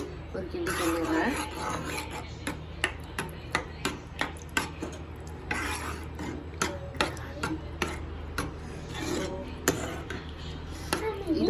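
Salt is stirred into a puree in a cooking pot, making about a dozen regular, fairly close scraping clinks of a spoon against the pot over a soft steady background.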